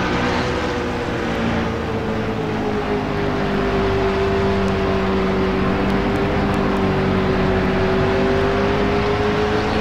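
Race car engines at New Hampshire during a Pro Cup green-flag restart, a loud steady drone with a sustained engine tone rising and holding, continuous throughout with no talk.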